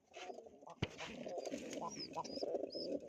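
Pakistani pigeons coo at their nest in soft, low, repeated calls. The cooing sits fairly faint and close, with a sharp knock and a few thin chirps over it.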